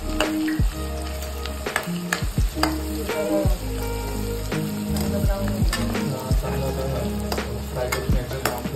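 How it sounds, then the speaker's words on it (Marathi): Onions fry until brown in a pan, a loud continuous sizzle broken by frequent spoon scrapes and stirring knocks, close up with no talking. "फ्राय करून घ्यायचं, ब्राऊन करून घ्यायचं सगळं।"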